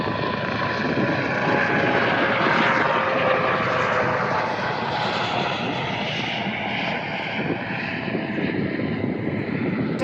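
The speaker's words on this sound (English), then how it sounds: "helicopters keep interrupting my story." A loud, steady aircraft engine roar fills the scene, a close helicopter-like drone that holds level throughout without talking.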